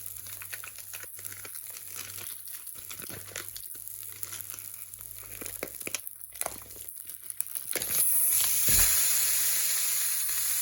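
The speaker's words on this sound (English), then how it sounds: "So I'm now going to add the beef mince, okay, until it's all browned off." Beef mince browns in a pan with a soft, continuous sizzle and crackle, rising to a louder, steadier hiss near the end.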